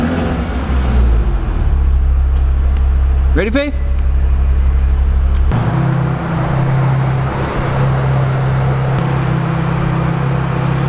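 Wide-body Porsche driving inside a shopping mall, its engine a steady low drone running throughout with a brief tonal sweep partway in, while a person speaks briefly over it.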